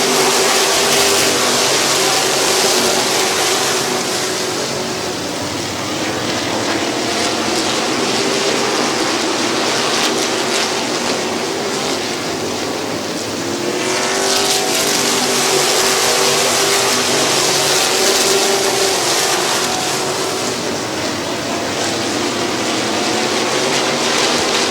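Race cars lap the oval at Midvale Speedway in a continuous loud engine roar, with one car sweeping past partway through and no voices.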